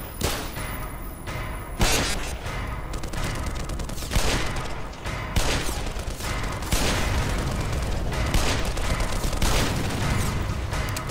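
Sustained gunfire in the first-person shooter Black Mesa, a dense, loud barrage of overlapping shots with heavier bursts punching through every second or two.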